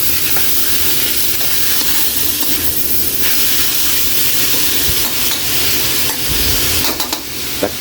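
Sotanghon guisado stirred in a frying pan, a continuous loud sizzle and hiss with occasional scraping and clinks from the utensil against the pan.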